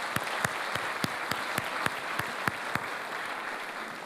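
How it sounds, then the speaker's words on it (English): An event audience gives a round of applause that stays fairly quiet and even, with sharp individual claps standing out at a regular beat over the dense clapping. "So let's give Gary Schlossberg another round of applause"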